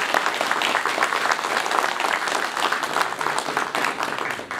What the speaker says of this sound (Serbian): Molim aplauz za naše goste.